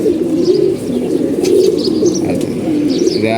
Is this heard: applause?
no